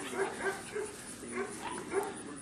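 Four-week-old Brittany puppies fuss with a series of short whimpers and yips, about five close, moderately loud cries at an irregular rhythm.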